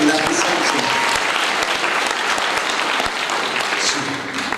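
Audience applause at a children's Christian music show, steady dense clapping filling the whole stretch at a loud, even level.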